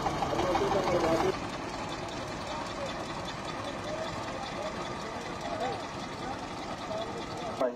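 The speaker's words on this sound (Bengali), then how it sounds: "ইঞ্জিনের দিকে আসি" A ferry boat's engine chugs steadily at Auliya Ghat in Panchagarh, a continuous mechanical drone running throughout, with louder voices and commotion at the start and people talking over it.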